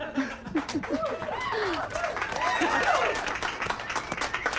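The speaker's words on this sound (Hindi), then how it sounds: "तो दोस्तों, एलिसा हेरल्डसन के लिए जोरदार तालियां।" An audience at a comedy show gives loud, continuous applause, dense clapping that stays even across the short stretch, with a few higher cheers or whistles mixed in.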